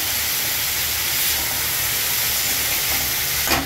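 Dried fish (sukat) and onion cooking in a pan for a spicy chutney, with a loud, steady sizzle and hiss close up that runs the whole time, and a brief scrape of stirring near the end.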